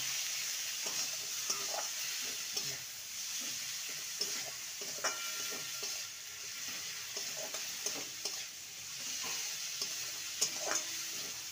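Shredded cabbage fries in a pan for stuffed cabbage rolls, a steady sizzle with soft, irregular spoon taps and scrapes as it is stirred, close and fairly quiet.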